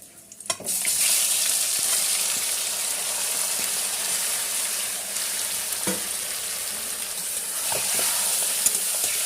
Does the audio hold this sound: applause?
no